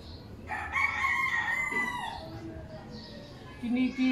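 A rooster crows outdoors in a rural yard where a galyang plant is being planted, one long rising-and-falling call at moderate distance, with a brief shorter fowl call near the end amid light background noise.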